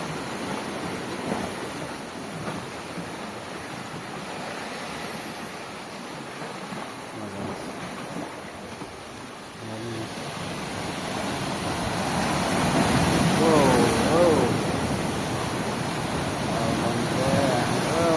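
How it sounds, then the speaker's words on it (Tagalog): Strong ocean waves at sea during a fishing trip, a continuous rushing surf that grows louder toward the end, mixed with wind noise and voices. "Ang lakas ng wave guys."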